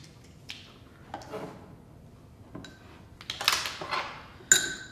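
A spoon clinks and scrapes against a bowl while stirring in a teaspoon of sugar, several sharp metallic taps separated by quiet gaps, with one bright clink near the end.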